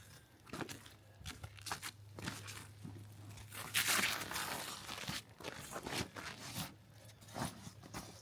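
A canvas touring tent is folded by hand for packing into its bag, giving close rustles, crinkles and scrapes of heavy fabric with a burst of loud crumpling midway.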